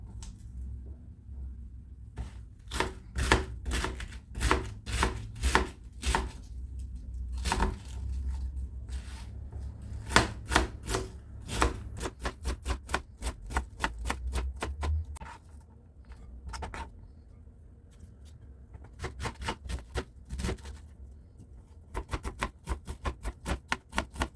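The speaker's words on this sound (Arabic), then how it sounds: "هسه راح أثرم اللهانة البيضة أو الملفوف الأبيض" A knife chops white cabbage on a cutting board, giving rapid, steady close-up thuds in long runs with brief pauses between bursts.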